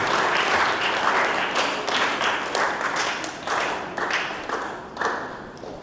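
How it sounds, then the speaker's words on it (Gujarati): Steady applause from a church seminar audience in Dahod honoring Sunday school teachers, many hands clapping together in a dense, sustained patter that swells and eases in waves for several seconds, with no talk over it. "આપણે એકવાર જોરદાર તાળીથી એમનું અભિવાદન કરીએ"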